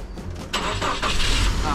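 A car with a battery drained by headlights left on overnight cranks and catches after a jump start, then settles into a running rumble, with voices talking nearby.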